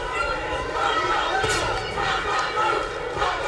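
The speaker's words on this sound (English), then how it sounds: "Crowd chanting Santa Cruz." A boxing arena crowd chants Santa Cruz's name during the fourth round of a Leo Santa Cruz vs Cesar Seda fight in Texas, a steady roar of many voices with rhythmic swells, under commentary.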